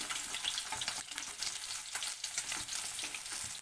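Five pieces of rohu fish frying in hot oil until reddish-brown, giving a continuous bright crackling sizzle with small fluctuating pops, close and steady throughout without any talk.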